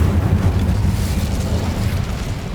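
A fire spell cast in the video game Hogwarts Legacy gives a loud, sustained roaring whoosh of flame with heavy low rumble that holds steady for a couple of seconds.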